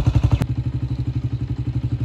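Honda 125 motorcycle, a 2022 model, kick-started: a brief burst of kicking clatter at the start, then the single-cylinder engine settles into a steady, pulsing idle close by, with no voices.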